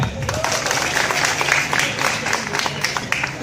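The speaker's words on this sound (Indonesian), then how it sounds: "Boleh tepuk tangan tuh lo semua." Audience applause at a stand-up comedy show in a coffee venue, dense and steady clapping from a close crowd lasting several seconds with a few voices mixed in.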